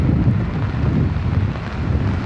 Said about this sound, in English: Getting a little windy too.